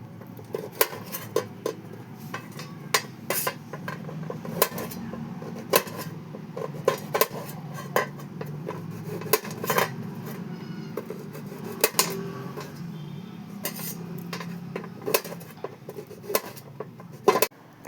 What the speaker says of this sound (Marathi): बघा मित्र, हे बारीक बारीक असं कापून घ्यायचं बदामाचं.